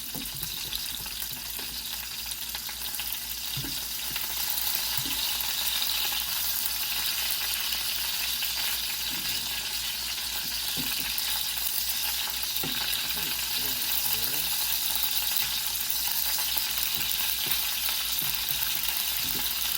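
Chicken pieces sizzle steadily in a pan, with the fry holding at an even, close hiss throughout and a few soft knocks as the pieces are turned.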